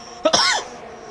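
A race commentator coughs twice in quick succession during a hectic F1 2022 sim-racing broadcast, close to the microphone and loud against faint background noise.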